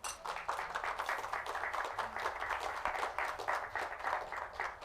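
Audience applause at a live cooking demonstration at the Argencarne 2023 meat expo, a dense, steady patter of many hands clapping continuously at moderate distance, with faint voices mixed in underneath.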